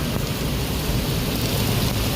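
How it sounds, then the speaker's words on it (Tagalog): Heavy rain pours down steadily, a dense loud roar of drops with a low rumble underneath and no pauses. "Ang lakas ng ulan, oh."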